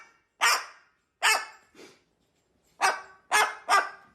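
A parrot mimics a dog's bark, six sharp barks in uneven bursts with short silences between, close and clear.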